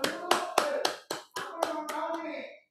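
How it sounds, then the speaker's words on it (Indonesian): Congregation clapping hands at a couples' church gathering, a slow, rhythmic series of about nine distinct loud claps with short gaps, close and clear, fading slightly at the end. "Tepuk tangan dulu buat Tuhan Yesus,"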